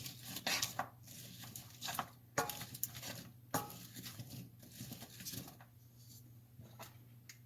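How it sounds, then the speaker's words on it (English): Onions and garlic sauteing in melted butter in a pot, with a steady soft sizzle under repeated clatters and scrapes of a utensil stirring against the pan. No talking. "add in the onions, garlic, and start sauteing the onions."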